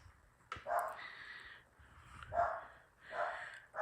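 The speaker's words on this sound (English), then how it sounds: "But apparently somebody's outside walking their dog because our dog's somebody's taking their dog for a walk and Joey's jealous." An indoor dog reacting to another dog being walked outside, with a sharp knock followed by repeated faint whining huffs and snorting breaths, close but quiet.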